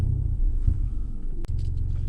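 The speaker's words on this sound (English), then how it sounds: "So if you're ready, start your engine." A car engine running in a car park at the start of a UK driving test, a steady low rumble throughout with one brief sharp click partway through.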